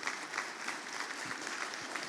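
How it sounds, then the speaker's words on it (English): A church congregation claps for a few seconds, a dense, fairly quiet patter of applause spread evenly through the room. "sure, you can clap for that"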